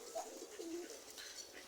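A pigeon coos softly as it comes to drink water, two or three low, faint murmuring notes close by in a quiet setting.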